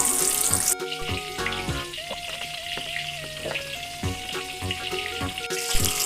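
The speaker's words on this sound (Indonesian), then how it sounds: "Lanjut kita goreng sisanya" Eggplant pieces frying in hot oil, a continuous busy sizzle and crackle with occasional clinks of a utensil against the pan, close and steady, without speech.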